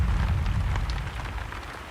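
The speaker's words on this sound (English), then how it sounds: "It's raining outside." Rain falls steadily across a map in the motorbike game Trials Evolution, a dense, even hiss with a low rumble beneath it that stays constant throughout with no pauses.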